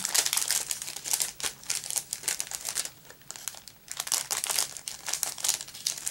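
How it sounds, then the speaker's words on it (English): Continuous close crinkling and rustling of plastic bags, dense and uneven with bursts of louder crackle and no talking. "trying to do this with a minimum amount of crinkling, but you're going to hear some."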